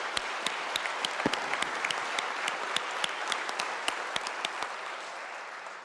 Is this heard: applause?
yes